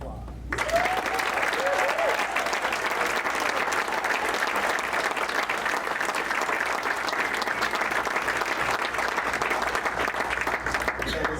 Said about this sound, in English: allow those who love you to give you another round of applause